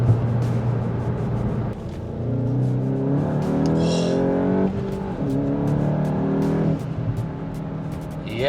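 A modified Volkswagen MK8 GTI pulls hard in second gear, its loud engine note rising steadily and dipping at several shifts, heard close and continuous without talking.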